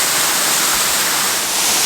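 Waterfall partly hidden behind a large foreground rock gives a steady, dense broadband rush of falling water, continuous and fairly loud throughout with no voices.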